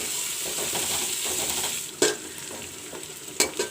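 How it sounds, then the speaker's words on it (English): Sliced onions fry in a pan with a steady, close sizzle, broken by a couple of sharp clinks of a utensil stirring against the pan. "Put in some sliced onions. Fry the onions till golden brown."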